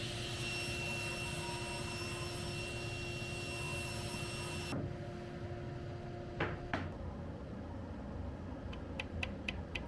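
A saw ripping a 2-inch strip of MDF roars loudly and steadily for about five seconds, then cuts off, leaving a quieter hum with a few faint knocks and clicks.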